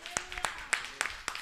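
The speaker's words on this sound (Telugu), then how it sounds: "ఓసారి గట్టిగా చప్పట్లు కొట్టండి." Congregation in a church prayer service clapping loudly in a few sharp bursts, irregular claps spaced across a short stretch, close and distinct.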